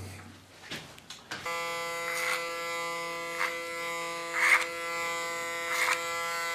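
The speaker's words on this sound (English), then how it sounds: "time to get the clipper" An electric hair clipper buzzes steadily and close by in a home haircut, switching on after a few soft handling knocks and holding a strong, even hum with slight swells as it moves against the head.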